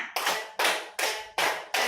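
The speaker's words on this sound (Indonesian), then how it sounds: "Tepuk 1, tepuk 1, tepuk 3, tepuk 3, tepuk 5." A group of mothers claps in unison in five sharp, evenly spaced bursts, each a quick flurry of hand claps followed by a brief pause, close and clear with no talking.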